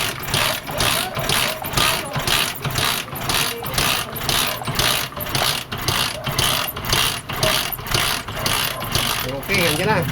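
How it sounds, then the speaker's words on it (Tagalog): A Honda TMX125 motorcycle engine runs steadily with a busy mechanical clatter and rhythmic ticking, loud and close throughout, with a voice speaking briefly over it. "tingnan nyo muna yan kung gumagana yung oil pump nya o hindi"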